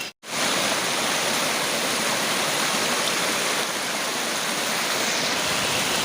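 Monsoon floodwater rushes like a waterfall: a loud, dense, continuous roar of pouring water that starts abruptly and holds steady throughout, up close.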